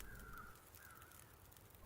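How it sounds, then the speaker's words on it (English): Crows cawing in the game The Long Dark, two drawn-out caws at moderate distance over a faint wind-like ambience, no talk. "Now we've got crows everywhere"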